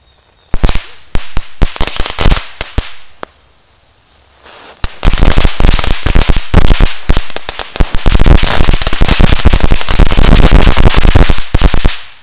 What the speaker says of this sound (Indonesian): di sini sudah ada mercon telur dino. Kita nyalakan bersama-sama.